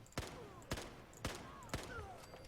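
Manwell rifle shots in Fallout 4 ring out four times at an even pace about half a second apart, sharp cracks with short tails over a faint game background.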